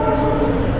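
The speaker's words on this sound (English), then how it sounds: "That's the train. We are outside the railway station." A train passes just outside a railway station in a brief moment of loud, steady low rumble with a tonal whine, with no talk.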